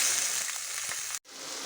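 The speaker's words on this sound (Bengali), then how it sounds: "কড়াইয়ে পরিমাণ মতন সর্ষে তেল দিয়ে আমি আলুগুলো ছেড়ে নিচ্ছি" Potatoes dropped into mustard oil in a wok sizzle with a dense, steady hiss close by, briefly cut off by a sharp gap before the frying resumes.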